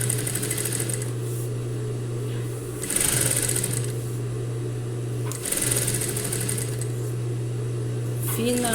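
Sewing machine stitching a fabric cosmetic bag, a steady close mechanical hum with louder bursts of stitching around three and five and a half seconds, ending with a short reverse stitch.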